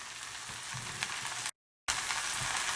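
Cauliflower pulao sizzles on a tawa with spices, a loud, close, steady frying hiss broken by a brief silent gap, with faint stirring and no talking.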